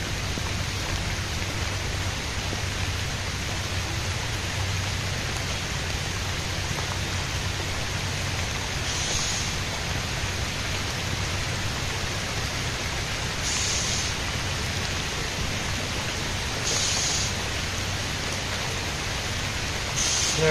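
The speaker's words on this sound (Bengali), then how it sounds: "বৃষ্টি বেশি আসতেছে।" Heavy rain pours steadily on a village vegetable patch where leafy greens are being picked, a dense, even hiss with no breaks, joined by a few brief brighter splashes.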